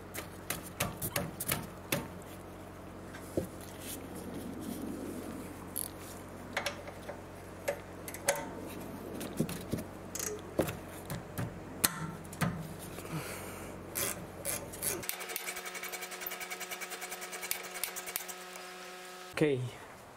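Ratchet wrench working on the rear brakes of a 2007 Mercedes C-class W204, a rapid series of sharp metallic clicks and ticks repeating close by, with someone speaking intermittently.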